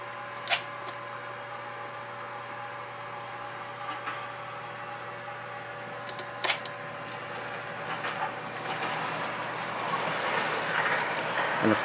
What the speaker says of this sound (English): I'm just going to start that one up real quick.